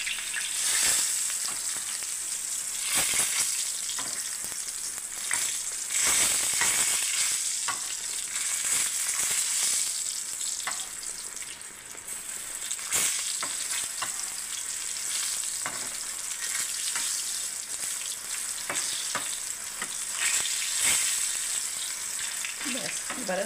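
Eggplant slices sizzle loudly in hot oil in a pan, a dense continuous crackle with brief scrapes and clatters as the slices are turned, close and alone.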